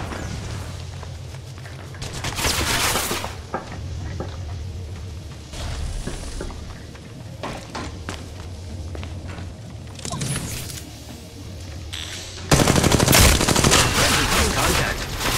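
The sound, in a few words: gunfire in Apex Legends Mobile video game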